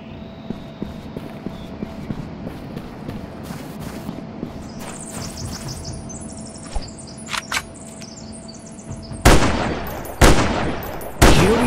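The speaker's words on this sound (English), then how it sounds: "While bullets and gunfire can provide a powerful advantage, they generate quite a lot of noise." Gunfire in the PC game Dinosaur Forest: scattered distant shots and short bursts over an ambient forest bed with birdsong, ending in three loud, close, booming shots.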